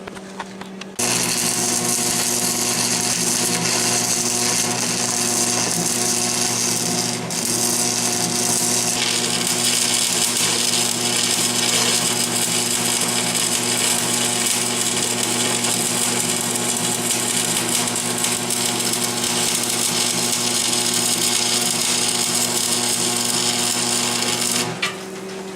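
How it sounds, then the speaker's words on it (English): A welder running at 125 amps DC while a flatbed is customized makes a continuous, loud crackling hiss over a steady electrical hum that lasts about twenty-four seconds without a break. "either way, let's see how it welds."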